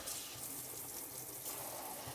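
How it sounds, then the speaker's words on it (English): A spoon rinsed under a running kitchen tap: a steady, close hiss of flowing water splashing into the sink, unbroken and alone for the couple of seconds. "We're going to just rinse it off."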